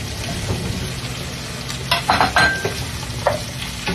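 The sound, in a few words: squash added to shrimp frying in a pan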